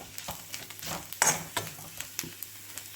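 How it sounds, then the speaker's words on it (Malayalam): Chili powder sautés in oil in a pan for a mackerel curry, with a soft sizzle under repeated scrapes and taps of a stirring spoon against the pan, fairly faint and close. "അതിൻ്റെ പച്ച കുത്തലൊക്കെ മാറുന്നോടം വരെ നന്നായിട്ടൊന്ന് വഴറ്റിയെടുക്കണേ"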